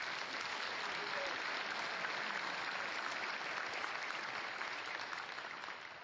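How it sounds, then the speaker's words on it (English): A large keynote audience at the CCP Fanfest 2012 convention breaks into dense, sustained applause that fills the hall evenly and fades slightly at the end. "So just give yourselves a round of applause for being involved in all this."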